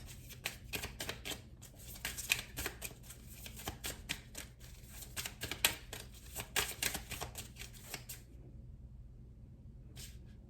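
Oracle cards are shuffled in quick, irregular bursts of crisp riffling and slapping, close and fairly quiet, running for several seconds before stopping, with one last brief shuffle near the end.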